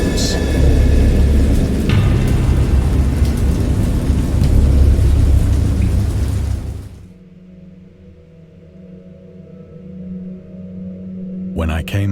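Heavy rain roars with a deep rumble of thunder for several seconds, then drops to a quieter low drone with faint distant rain.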